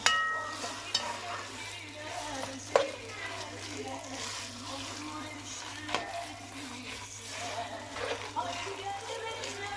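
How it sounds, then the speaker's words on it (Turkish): Green peppers sautéing in a pan with a little olive and sunflower oil, a quiet steady sizzle with occasional sharp clicks of a spoon against the pan, under talking. "Biberlerim de kavrulacak"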